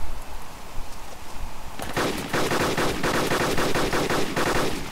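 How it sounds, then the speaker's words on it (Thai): Rapid bursts of automatic gunfire in DayZ Epoch, a dense string of sharp shots arriving after a quiet stretch and continuing loud and steady for several seconds. "ใครยิงเสียงใครยิง"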